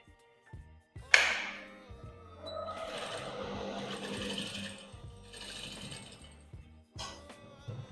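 A sewing machine stitches a reversible bucket hat in short bursts, with clicks and mechanical clinks between runs of quiet whirring, close and fairly faint.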